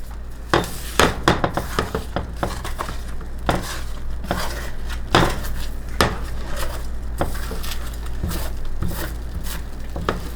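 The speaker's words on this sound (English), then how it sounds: "let me stir this, Harry, because I want it just cooked" A spoon stirs a keto high-protein strawberry mousse mixture cooking in a pot, giving repeated close knocks and scrapes against the pot in an uneven rhythm, with no talking.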